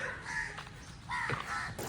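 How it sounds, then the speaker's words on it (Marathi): A few crows caw repeatedly nearby, coarse raspy calls in short bursts, one after another with no talking. "बघू शकतात कितीच कावळे"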